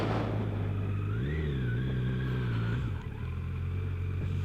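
Kawasaki Z900 naked sportbike engine hums low and steady while riding onto a highway, rising briefly in pitch as it accelerates, then easing off with a short dip before settling, with wind noise and no talk.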